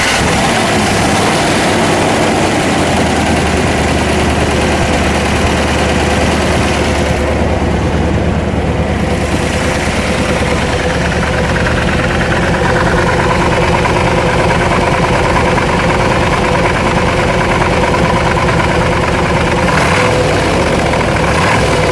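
A 1969 Chevrolet Corvette with the L89 427 V8 and 4-speed idles steadily with the engine compartment open, a deep, continuous low rumble and exhaust burble that stays loud and close throughout with no talking.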